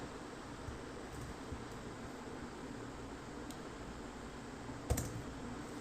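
Steady computer keyboard typing as a file path is entered into code, soft continuous clicks over a constant fan-like hiss, with one sharper knock near the end.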